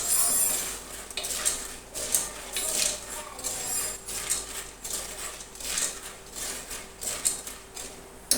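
Popcorn kernels are stirred in hot oil in a pan, a repeated metallic scraping and rattling of utensil against pan that sounds close and steady for several seconds, with no talking.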